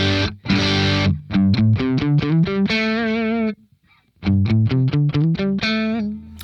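Distorted electric guitar played through a Kemper Profiler amp capture rings out in loud, punchy chugged chords and sustained notes, with a brief gap of silence midway and no talk.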